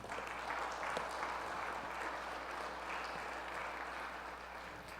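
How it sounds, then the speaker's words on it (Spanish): Steady applause from a church congregation during a sermon fills the whole stretch, a dense, even patter of clapping heard from some distance. "Dale un aplauso a Cristo, hermano."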